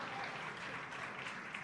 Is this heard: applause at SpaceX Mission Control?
yes